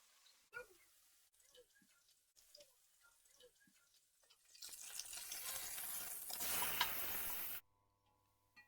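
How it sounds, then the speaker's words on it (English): Beef shank searing in a pot starts with a few quiet clicks and taps, then turns into a faint, steady sizzling hiss for several seconds before cutting off. "going to sear the meat in batches so that we have an even sear on all the meats"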